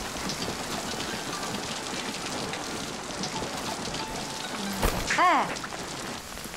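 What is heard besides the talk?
heavy rain falling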